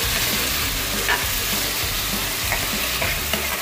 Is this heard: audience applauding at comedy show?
no